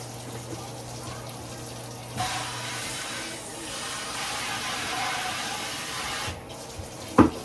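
Hot water running from a kitchen tap, a steady soft hiss of flowing water that swells mid-clip, with a brief clink near the end.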